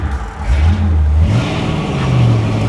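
A 1961 Chevy Impala with a 409 V8 engine revs loudly nearby, its deep rumble swelling and dipping through a couple of throttle blips.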